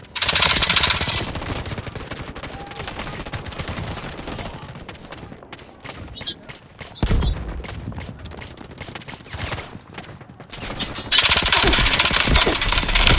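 Automatic weapon fire in the mobile shooter game Delta Force rattles in long bursts, loud and close, alternating with quieter stretches of scattered distant shots.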